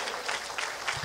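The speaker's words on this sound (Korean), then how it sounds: "하나님께 오늘 저희들은요 어떻게 하고 싶냐면 좀 박수 드리고 싶어요" A church congregation claps, a short, fairly faint wash of many hands applauding with no speech over it.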